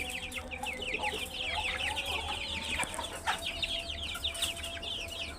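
Chittagong hill chicken chicks and hens fill the space with dense, continuous high peeping and soft clucking, many birds calling at once at close range with no talk.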